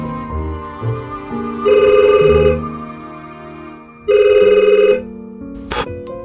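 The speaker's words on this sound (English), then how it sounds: "After a few more minutes, the phone rings again." A telephone bell rings in two loud bursts with a pause between them, over soft tonal background music.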